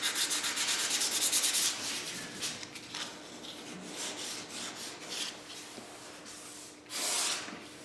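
Hand sanding on the quarter extension corner of a Mustang Mach 1, rhythmic rasping strokes close by, heavier at first, then lighter intermittent passes and one final burst.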